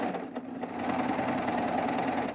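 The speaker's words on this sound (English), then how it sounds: "And then we're ready to serge again." A serger sewing machine stitches fusible-thread binding along a quilt edge, producing a close, steady mechanical whir that speeds up and then runs continuously.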